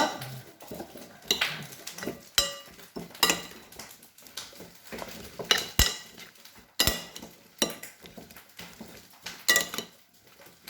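A spoon or utensil mixes soy sauce and olive oil in a bowl, giving repeated close clinks and scraping taps at an uneven rhythm, with no talk.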